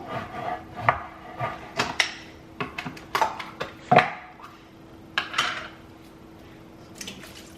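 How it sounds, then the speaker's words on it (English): Cans of chilies being opened and tipped into a pot for shelf-stable chicken chili: a run of sharp metallic clinks and clatters, some knocking and scraping against the pot, fairly close, with quiet gaps between. "Gonna open my chilies and get those into the pot."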